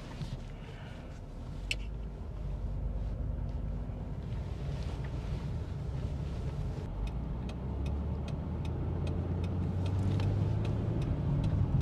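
A 1993 Ford Taurus GL station wagon on the move, with a steady low engine and road rumble mixed with wind buffeting. The sound runs continuously and swells slightly toward the end, with a few faint ticking clicks.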